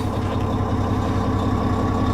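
A truck engine idling with a steady low rumble, a continuous close drone holding even throughout with no voices over it.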